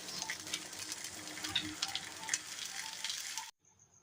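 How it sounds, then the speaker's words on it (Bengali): Bora fritters frying in a pan give a steady, close hiss of sizzling oil with small pops, then cut off abruptly near the end. "দেখো বড়াটা প্রায় ভাজা হয়ে গেছে"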